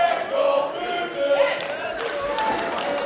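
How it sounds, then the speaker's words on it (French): Wrestling arena crowd at a Théâtre du Carnage match, a broad roar of cheering and shouts that swells, then eases into a lower steady murmur, heard from within the hall with scattered claps and thumps. "Ah, la foule qui se calme"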